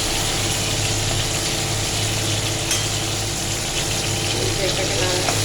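Spices with ground cumin sizzle in a frying pan as they are stirred, a steady close frying hiss with a low hum beneath and a voice talking over it.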